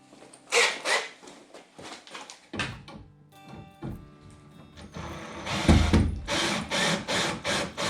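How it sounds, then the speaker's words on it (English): A handheld power drill during electrical work in a furnace room, whirring in short bursts with pauses, then running in longer repeated pulses near the end, with no talking. "I got my drill."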